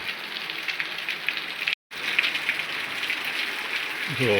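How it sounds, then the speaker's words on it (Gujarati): Heavy rain pouring steadily through the morning after falling all night, a dense continuous hiss of drops hitting surfaces, close and unbroken apart from one short gap. "વરસાદ ફૂલે ફૂલ ચાલુ થઈ ગયો છે."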